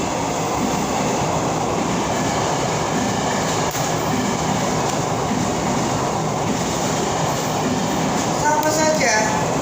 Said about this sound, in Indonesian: kita merasakan ada kereta lewat nih